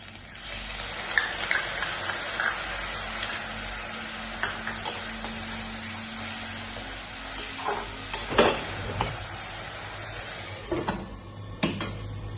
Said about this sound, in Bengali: আদা বাটা, রসুন বাটা দিচ্ছি, আদা বাটা, জিরে গুঁড়ো, ধনে গুঁড়ো, লঙ্কা গুঁড়ো, হলুদ গুঁড়ো সব মিলিয়ে একটু গরম জলে মিক্স করে নিয়েছি, এগিয়ে দিচ্ছি